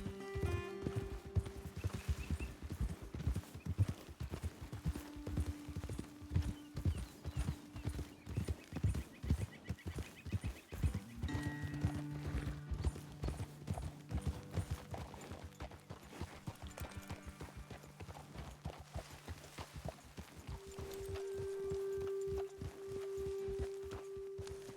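Horses walking in the video game Red Dead Redemption 2, their hooves clip-clopping in a steady, fairly close rhythm for the whole stretch, with a soft tonal game score underneath and a brief neigh.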